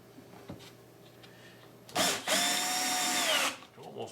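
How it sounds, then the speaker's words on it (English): A power drill drives a screw into the wood of a bee migratory pallet, a close, loud whirring burst of about a second and a half with a pitch that shifts as it bites, after a few quieter taps and handling noises. "then I'll put 4 more screws in this end"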